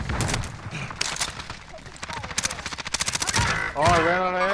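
Video game gunfire rattles in rapid bursts, with a dense run of automatic shots building to a steady stream of cracks, followed by a voice at the end.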